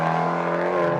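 A Fiat 500 Abarth's turbocharged engine gives a brief throttle blip, a loud, close, raspy exhaust note that holds steady for about a second with no talking.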